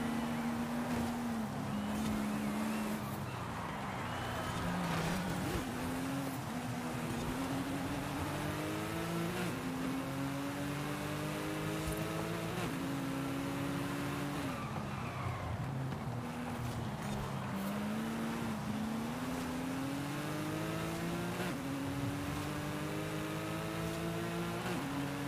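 A car races in the video game Forza Horizon 5, its engine droning and revving up and down through gear changes continuously, with wind-like rush behind it.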